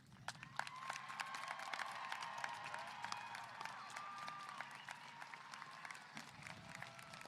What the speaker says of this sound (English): Honor graduates, will you please stand and receive recognition for your academic accomplishment by a round of applause.